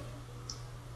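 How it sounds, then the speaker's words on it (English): A single sharp click from a dog training clicker sounds once, quiet and close over a low steady hum. "you can use the clicker"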